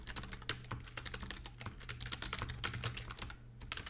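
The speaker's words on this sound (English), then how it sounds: "became my keyboard clattering" Rapid clattering of a computer keyboard while someone types, with quick irregular bursts of close, crisp key strikes over about four seconds and no talking.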